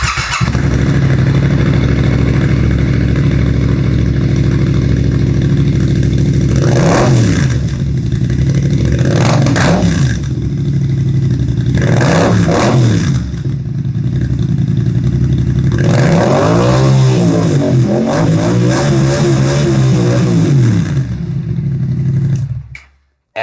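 A Yamaha XSR700 motorcycle with a Two Brothers exhaust, BMC high-flow air filter and Power Commander V starts up close by and idles loudly, with several sharp revs rising and falling before it cuts off abruptly.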